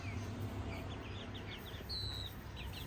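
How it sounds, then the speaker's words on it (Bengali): Desi chickens in a farm coop give short, high chirping calls in a quick scattered run, with one longer call in the middle, over a steady low background hum. "এটা হলো দেশি মুরগি।"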